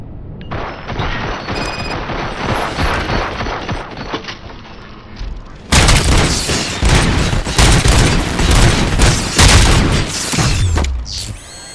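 Heavy gunfire from a RoboCop: Rogue City shootout, with mechanical clanks and booms building into a dense, loud barrage of rapid shots and impacts in the second half before cutting off abruptly.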